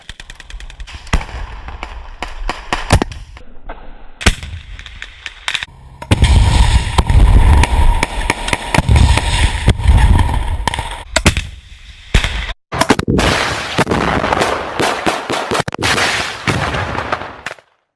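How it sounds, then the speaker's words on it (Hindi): Combat gunfire as Hamas fighters fire on Israeli soldiers in Gaza: repeated bursts of sharp cracks and rattling volleys with heavier booms, loud and chaotic, and a brief quiet gap before the shooting resumes. "हमास के लड़ाके इसराइल के सैनिकों पर गोलियां बरसा रहे हैं।"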